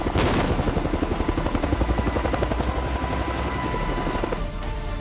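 A helicopter close by, its rotor thumping in a fast, loud, steady pulse over a broad roaring engine wash, with no voices.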